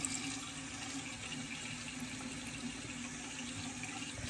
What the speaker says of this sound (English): let me turn off the water so you can hear me.